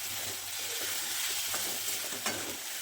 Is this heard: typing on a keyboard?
no